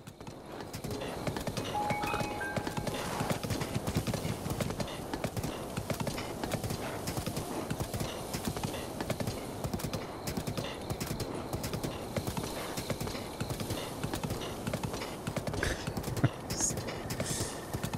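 Steady, rapid clip-clop of horse hooves galloping in Zelda: Breath of the Wild, continuous and close throughout, with a brief whinny-like blip near the end and occasional voice underneath.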